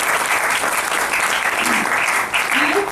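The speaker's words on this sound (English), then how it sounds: "We can give a huge round of applause for you also." An audience at a TiE Pune entrepreneurs' event claps in loud, sustained applause throughout, a dense crowd of hands with faint voices mixed in.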